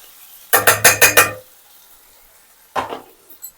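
Gongura pickle mixed in a pot, a close burst of five quick rhythmic metallic clanks from a spoon against the pot, then a pause and one more scrape-clank.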